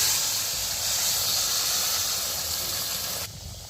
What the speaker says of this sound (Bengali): আমি সাইড থেকে জলটা দিয়ে দিচ্ছি